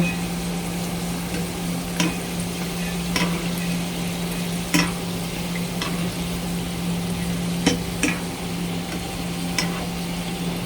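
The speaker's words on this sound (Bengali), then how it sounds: "এখন একটু একটু করে ছেড়ে ভালো করে ভাজতে হবে।" A homemade snack fries in hot oil in a pan, with a steady close sizzle and occasional sharp pops and stirring clicks, no voices.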